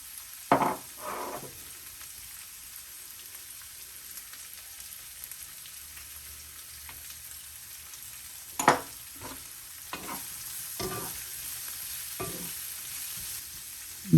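Bell peppers and onions sizzling in a pan as they are stirred, seasoned with salt and pepper: a soft continuous fry with a few sharp scrapes and clacks of the spoon scattered through, close and without voices.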